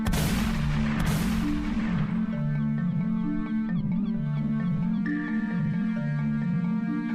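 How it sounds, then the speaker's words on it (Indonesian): A destroyer firing naval guns in a 2D animated war scene, heard as loud booming blasts that sweep into a sustained low rumble and rolling echoes. "Lalu muncul kapal perusak melepaskan tembakan ke arah KRI Macan Tutul."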